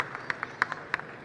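A home crowd at a squash match at Express Avenue Mall gives scattered, faint applause: a handful of separate hand claps spaced irregularly over about a second, with no talking.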